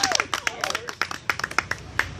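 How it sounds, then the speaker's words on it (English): Scattered audience clapping at a fairground flea circus show, a dozen or so sharp, uneven claps over about two seconds, with a voice briefly heard underneath. "Come on, everybody clap."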